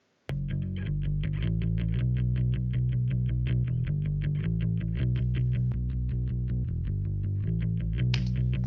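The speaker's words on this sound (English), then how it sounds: "To bring out a little more grit and a little more distortion and a little more low end" A heavily distorted, gritty instrument line kicks in abruptly and plays a steady rhythmic pattern with a thick, fuzzy low end.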